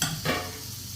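Dosa batter hisses on a hot pan with a soft, steady sizzle, close and quiet, with a brief brighter swell near the start.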